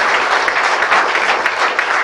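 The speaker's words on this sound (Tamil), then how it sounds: "ஒரு கைத்தட்டலை கர்த்தருக்காக கொடுங்கள்." A congregation at a healing service in a hotel hall claps in sustained, dense applause, loud and even throughout.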